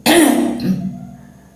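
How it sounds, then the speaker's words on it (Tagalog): A single harsh cough up close, followed by a short rasping throat sound that fades out. "ang lakas talaga ng ubo ko"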